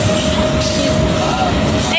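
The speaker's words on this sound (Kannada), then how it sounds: "ಬರೀ ಟ್ರೈನ್ ಸೌಂಡೆ" A moving train's constant roar with a thin sustained tone running through it, heard from inside a carriage.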